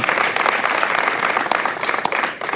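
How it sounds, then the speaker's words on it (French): Audience applause at a televised event fills the short span with dense, steady clapping from a crowd. "On va également applaudir"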